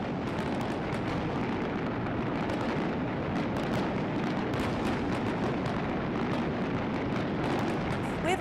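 A massive fireworks display goes off as shells burst in a dense, continuous barrage of booms, pops and crackles that fills the whole stretch without a pause.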